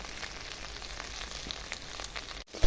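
Salt, turmeric and chili powder fry in hot oil in a pan for a katla fish head muri ghonto curry, giving a close, steady crackling sizzle that cuts out briefly near the end.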